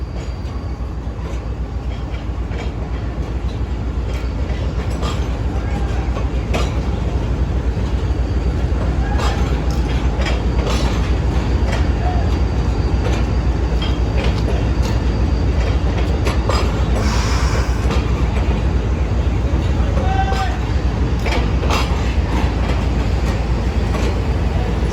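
The Thar Desert Safari passenger train pulls out of Karachi Cantt station, a steady rumbling roll of wheels and carriages with faint clicks and a brief squeal, heard continuously from nearby on the platform.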